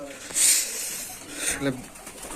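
Giribaz pigeons coo softly in a loft, with a few bird sounds and a brief flutter under nearby talk.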